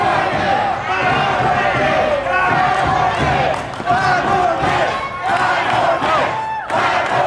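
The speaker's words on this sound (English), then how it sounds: "The crowd's not having it. To listen to this crowd." Wrestling arena crowd roaring and chanting in protest after a time limit draw, loud surging voices in waves with rhythmic chant-like bursts, close and full throughout.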